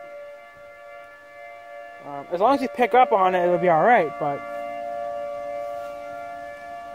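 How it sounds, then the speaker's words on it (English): An outdoor siren wails in the distance with a steady, sustained tone that runs underneath, while someone speaks over it at close range for a couple of seconds. "there goes a siren"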